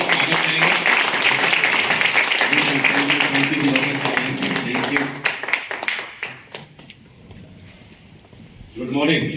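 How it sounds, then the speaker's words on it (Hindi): Audience applause welcoming people at a company anniversary gathering, a dense wash of clapping filling the room before tapering off, with a burst of talk near the end. "तो एक बार पुनः जोरदार तालियां बजाएंगे, स्वागत करेंगे।"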